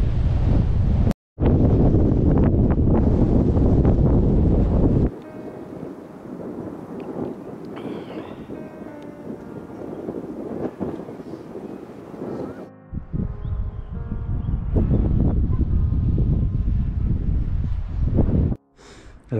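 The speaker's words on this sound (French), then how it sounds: "il faut faire attention avec les rafales de vent" Strong wind gusts buffet the microphone in loud rumbling bursts, with brief lulls between them, at a hilltop viewpoint above Vaison-la-Romaine, France.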